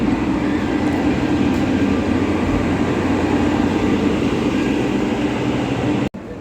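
Train noise at Hazrat Nizamuddin railway station in Delhi, a continuous loud rumble and roar of rolling stock that holds steady and is briefly cut near the end, with no talk.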